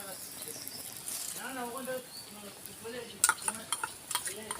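Nigella seeds dropped into hot oil for a pointed gourd malai curry crackle in a quiet, steady sizzle, joined later by sharper popping bursts, with faint voice-like tones and background noise.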